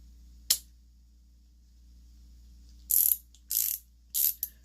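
A Pittsburgh 21-piece pass-through ratchet gives a single sharp click, then after a pause three short bursts of rapid, close-up ratcheting clicks, with a faint hum underneath.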